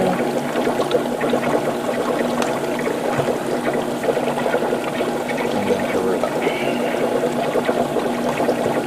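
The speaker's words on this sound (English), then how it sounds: "Pour it in here." A mixed airbrush paint mixture is poured into an airbrush reservoir while custom-painting a Gundam model kit, giving a steady, continuous liquid trickle and splash that runs throughout at a fairly even level.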